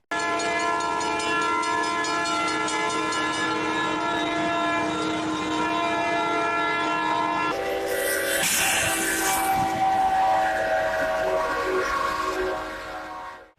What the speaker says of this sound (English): The train comes barreling through and smashes into the truck, whipping it around like it's nothing